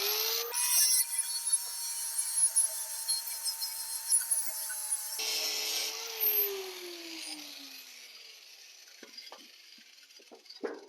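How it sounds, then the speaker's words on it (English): Metal is ground on custom truck cab mounts with an angle grinder: a steady, loud, high whine runs for several seconds, drops in pitch under load, then gives way to scattered clanks and scrapes. "Oh, we got to get some grinding done."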